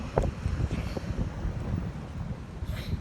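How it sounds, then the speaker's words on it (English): Wind buffets the microphone in gusty low rumbles, loud and close, with a faint rustle and no speech. "Oh my God, it's so windy."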